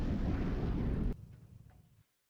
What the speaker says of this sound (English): Second missile's about to launch.